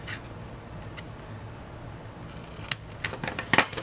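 Scissors cut paper for a Stampin' Up craft project, first quiet, then a few sharp close snips near the end over a low room hum.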